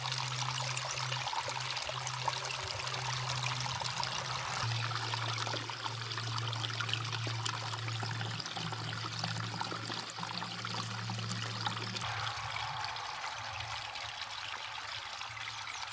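A small roadside spring-fed stream in Alaska trickles with steady, soft burbling water noise, continuous and close, with a low hum beneath.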